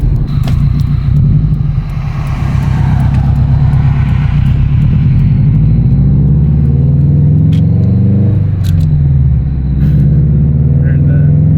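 A 2004 Subaru STI with a new Tomei catback exhaust driving, a loud close low drone with rising and falling engine pitch as it accelerates and shifts, with speech faintly mixed in.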